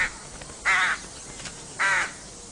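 A rook gives two harsh, raspy caws about a second apart, clear and fairly close against a quiet outdoor background.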